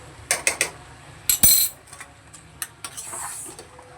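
Pui shak chorchori with fish head and garam masala stirred in a pan: a spoon scrapes and clinks against the metal in irregular bursts, with short clicks and a soft sizzle between.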